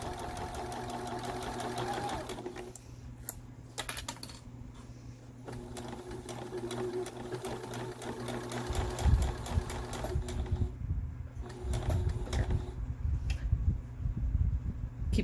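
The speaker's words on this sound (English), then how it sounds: "And then just sew all the way to the corner again." A sewing machine stitches fabric for a face mask, its steady rapid whir pausing once at a corner turn and then resuming close up, with faint handling noises between runs.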